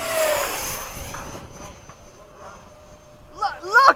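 An E-flite F-16 RC model jet at a flying field rushes past, its whine sliding down in pitch as it recedes, then a rising hiss as it comes around again near the end, with voices chatting in the background.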